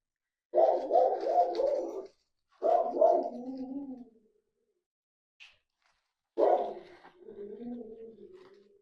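A dog barks and yowls in three drawn-out bursts, close by, with short silences between them, reacting to a truck outside.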